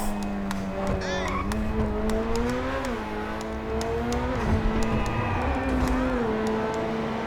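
A Grotti Furia launches with all-wheel drive in GTA Online, its engine droning and rising steadily through several gear changes, loud and close, with a voice talking over it.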